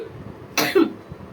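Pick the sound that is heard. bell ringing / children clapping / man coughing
man coughing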